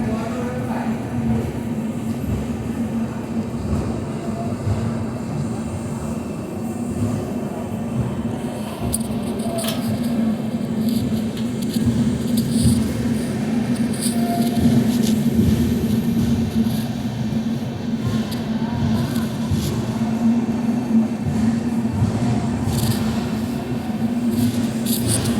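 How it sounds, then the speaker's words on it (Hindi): Shirdi Mysuru Express rolling out of Sainagar Shirdi station makes a steady, continuous rumble with a low drone, and faint clatter and rattles run throughout. "12:25 पर हमारी ट्रेन निकली है"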